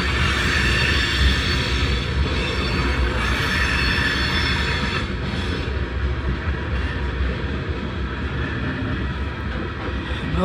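A Norfolk Southern freight train with distributed power rolls past on the Conemaugh Line, a loud continuous rumble of rail cars and wheels with metallic squeal running steadily throughout, close by.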